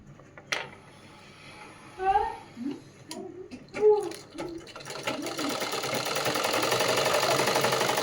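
Someone talks at first, then a sewing machine starts stitching the lining of a princess-cut garment, its fast buzzing whir rising and continuing steadily to the end.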